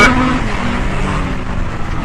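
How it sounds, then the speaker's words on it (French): During a Super Finale rally-cross race at the Antoing Cross Festival, a car horn honks briefly behind an onboard racing car, a short tone that is partly buried under loud, steady engine and road roar. "Et même un coup de klaxon derrière moi."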